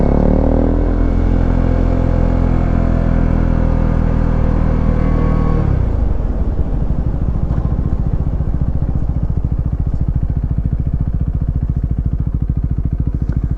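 A Husqvarna Svartpilen motorcycle engine with modifications revs hard and close, then drops into a raspy, crackling idle that sounds rough and ratty. No one speaks.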